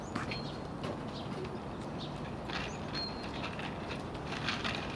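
Pigeons coo faintly amid steady outdoor background noise, with a few soft chirps and flutters, no voices present.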